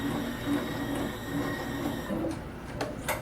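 A Blue Sky 1501 embroidery machine runs with a steady mechanical whir, then its thread trimmer gives a few quick, sharp clicks and snaps near the end.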